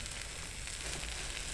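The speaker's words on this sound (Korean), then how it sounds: "지글지글 탄다." Food fries in a pan at a winter campsite with a dense, steady sizzle, continuous and fairly soft, and no voices over it.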